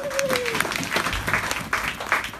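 A church congregation at a Sunday service breaks into applause, a steady wash of many hands clapping at moderate distance, with voices mixed in beneath the clapping.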